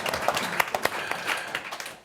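Audience applause from a seated crowd, a brief stretch of steady, moderately distant clapping with scattered sharper claps standing out.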